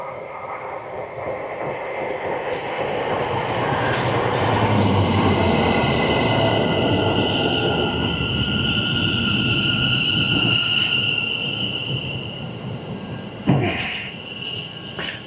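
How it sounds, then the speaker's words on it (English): A train runs along rails at the Birmingham German Market with a low rumble and rattling carriage noise, swelling and easing, with a sharp clunk near the end. "Come and join me on the train."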